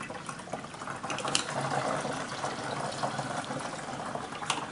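Hot liquid pours steadily and splashes as hop matter is strained into a fermenter, making a continuous close gushing, trickling wash with small spatters throughout.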